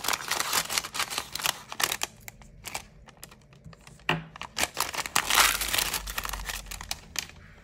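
A sterilization indicator packet for nail tools being torn open, with crisp crinkling and tearing of the paper-plastic pouch in a series of short bursts.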